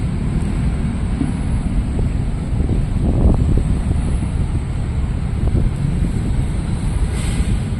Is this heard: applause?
no